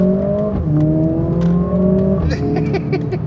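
A 2024 Mercedes-Benz CLA45s accelerates hard with a loud, steady engine note rising in pitch through the gear. A shift comes about two seconds in, followed by a burst of crackle, all heard from inside the car.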